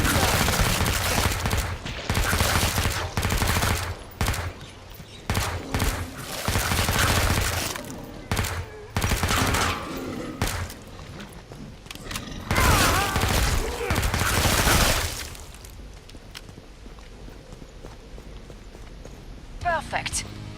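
Rapid bursts of gunfire and explosions fill a Killing Floor 2 battle with SWAT-class weapons, loud and dense for about fifteen seconds before easing into quieter game ambience, with a voice speaking over the action.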